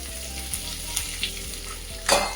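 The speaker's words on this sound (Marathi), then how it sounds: "आता हे व्यवस्थित परतून घ्यायचे." Green chillies and peanuts sauté in hot tempering oil for a poha topping, with a steady sizzling hiss, several light spoon clicks and a louder stirring scrape near the end.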